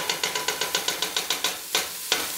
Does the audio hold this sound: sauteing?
yes